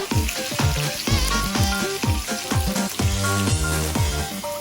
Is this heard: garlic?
yes